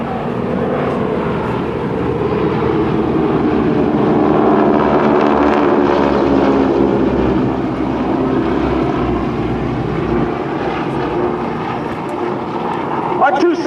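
Heavy tailwheel propeller aircraft of the GEICO Skytypers team drone overhead in formation at an air show, a loud continuous engine roar that swells and fades under a commentator's voice.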